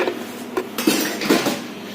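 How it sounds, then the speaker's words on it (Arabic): Ice cubes clatter and clink into a blender cup in a few quick bursts, loud and close, with rattling and knocking over a background hiss. "هنحط في معيار كوبايه تلج كبيره"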